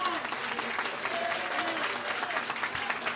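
Parents and friends applauding at the 2023 Co-op Tech completion ceremony, a dense, even burst of clapping with some crowd voices mixed in.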